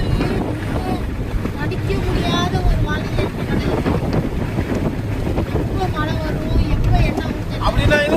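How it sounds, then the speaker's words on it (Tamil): Rough sea waves at Dhanushkodi churn and crash under heavy wind buffeting, a loud continuous roar with voices talking over it. "இந்த கடல் தாண்டா இப்போ ரொம்ப ஆக்ரோஷமா இருக்குல்ல."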